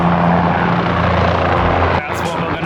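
A helicopter in New York City gives a loud, steady rotor and engine drone with a chopping low thump, while people talk nearby over the noise.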